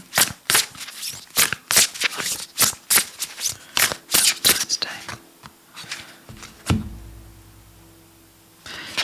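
Tarot cards riffled and shuffled in a fast, close, rhythmic burst of crisp slaps and flutters, then a few slower slides and taps as a card is drawn, with quiet whispery handling noise between.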